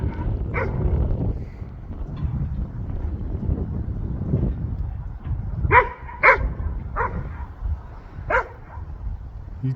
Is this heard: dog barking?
yes